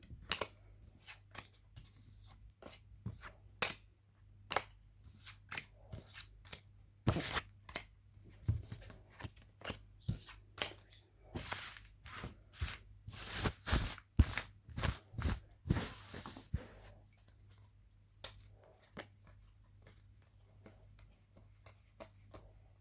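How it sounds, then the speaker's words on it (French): Oracle de Belline cards laid out in rows of thirteen on a table: a long run of quick, light taps and slides, clustering into brisk bursts near the middle, close and quiet with no talk. "j'étale 1, 2, 3, 4 rangées de 13 cartes sur la table"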